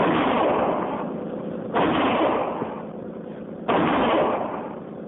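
Three heavy, booming gunshots from a radio drama sound effect land about two seconds apart, each one loud and muffled with a long fading tail.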